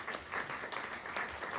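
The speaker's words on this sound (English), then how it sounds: "everybody always claps." A small audience claps at a hospitality industry talk, a brief, fairly faint patter of applause with uneven rhythm and no voices over it.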